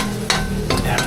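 Beef stroganoff ingredients sautéing in a pan, a brief burst of steady sizzle and frying hiss with a couple of stirring scrapes, close and with no talking.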